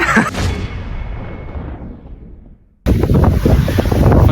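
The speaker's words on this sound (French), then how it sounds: "comme vous voyez, il y a du vent" Strong wind blows across an outdoor football training pitch, buffeting the microphone in loud rumbling gusts. The wind eases into a brief near-silence, then returns suddenly at full force.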